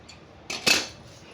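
Scissors cut fabric for a long frock in two quick, crisp snips close by, with a faint tap before them and quiet around them.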